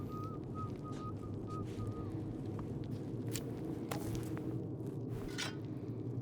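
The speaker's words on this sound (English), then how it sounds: "I heard somebody whistling." Someone whistling in Indiana Jones and the Great Circle, a faint, thin tune of a few notes heard early over a steady low ambient rumble, with occasional soft footsteps.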